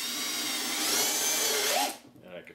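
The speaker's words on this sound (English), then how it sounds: "Now put this one screw in." A power drill drives a screw into wood during assembly of a wooden beehive part, a loud steady whine lasting about two seconds that winds down, with a faint voice after it stops.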